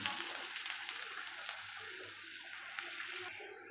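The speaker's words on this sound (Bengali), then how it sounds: "দেখো এই মাছটা লাল লাল ভাজা হয়ে গেছে" Catla fish fries in oil with a quiet, continuous sizzle and crackle. A faint hum sits underneath, and there is one brief sharper pop.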